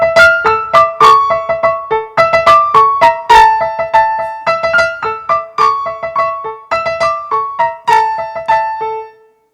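Stereotyped exotic-sounding tune of the kind Americans imagined as Turkish music, bright plucked or struck melodic notes in a bouncy repeating pattern, clear and prominent with no voices.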